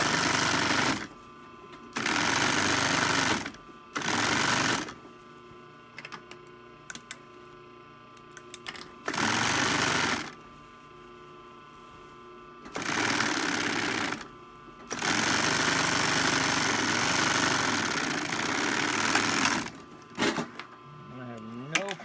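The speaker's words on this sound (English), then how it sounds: "So the next step is to go back to the serger and cover up this" A serger stitches a seam on a shirt made from a 6-point Hudson Bay wool blanket, running in fast, loud bursts of a few seconds each, separated by quieter pauses with talk.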